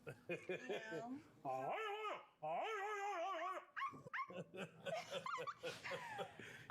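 A person imitates a dog, barking and whimpering loudly and close, with other voices talking around it.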